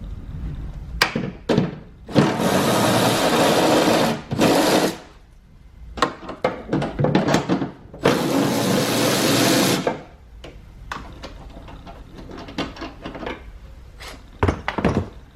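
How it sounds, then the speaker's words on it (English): Two number 10 nuts are loosened on the lamp housing of a 2008-2011 Cadillac STS with a power tool. Loud bursts of whirring spin and rattle stand close and alone, broken up by clicks, knocks and quieter handling. "And then we have two number 10 nuts that we need to loosen."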